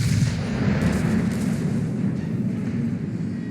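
Warship naval guns firing in the video game World of Warships, a continuous deep rumbling roar of artillery blasts blending together, loud and sustained without talking.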